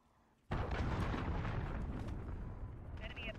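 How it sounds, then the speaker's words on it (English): Cruise missile strike in Call of Duty multiplayer: a sudden loud explosion hits after a quiet moment, then a long rumbling roar that slowly fades, with some faint higher sounds near the end. "Cruise missile away."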